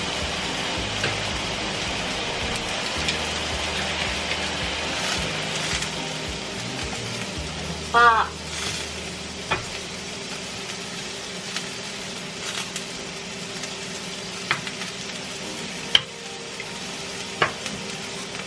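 Food fries in butter in a pan, giving a continuous close, even sizzle with faint stirring and a few brief clinks of utensils over nearly twenty seconds.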